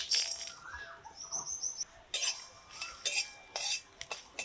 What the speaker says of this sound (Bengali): শুকনো মাটির সরাই নামিয়ে রাখলাম